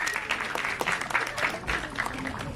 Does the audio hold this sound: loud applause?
yes